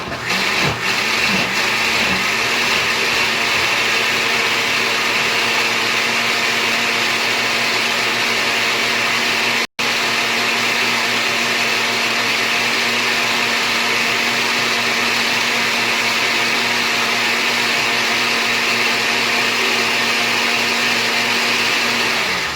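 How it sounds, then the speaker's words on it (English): A blender blending sumac and water runs loud and steady at high speed, a continuous whirring roar with only a brief momentary dip partway through. "Now that I've got my water added to the blender, now we're going to blend it."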